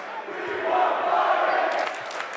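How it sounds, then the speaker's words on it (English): Boys basketball fans cheer and shout in a high school gym during Alvirne at Nashua North, a broad crowd roar that swells in the middle and stays steady, with scattered voices on top. "Titan fans start cheering"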